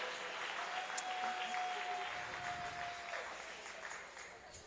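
A church congregation breaks into sustained applause during a French-language sermon, a dense wash of clapping from many hands that holds steady for several seconds at moderate distance, with a faint voice underneath.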